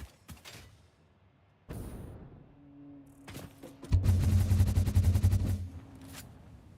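Rifle gunfire in the game Satisfactory, a few sharp separate shots and then a fast, loud burst of rapid fire lasting about two seconds, followed by a fading tail.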